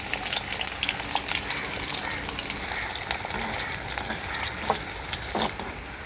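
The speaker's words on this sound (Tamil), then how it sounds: "ஆயில் நல்லா சூடாயிடுச்சுங்க. இப்போ நம்ம வெங்காயத்தை சேர்த்துக்கலாம்." Sliced onions sizzle and crackle in hot oil in a kadai, a steady close frying hiss with occasional stirring scrapes and no talk.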